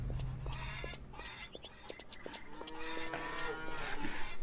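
Cows mooing on a farm in the game Farmer's Dynasty, several low drawn-out calls over farmyard ambience with faint poultry.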